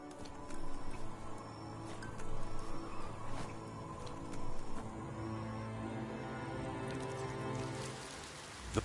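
Steady rain in the video game Biomutant, a constant patter of drops on surfaces that holds even through the whole stretch, with faint game ambience behind it and no talk.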